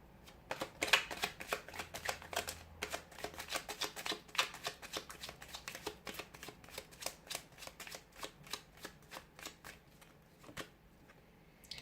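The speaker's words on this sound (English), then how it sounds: "give the cards a shuffle" Tarot cards are shuffled repeatedly, a rapid run of crisp riffling snaps that continues in bursts for several seconds, close and fairly quiet.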